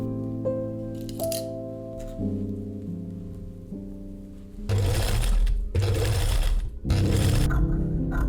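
Sewing machine stitching pinned fabric pieces of a winter cape together, starting with a steady mechanical hum and rising to louder bursts of fast stitching with short pauses between them, no voices.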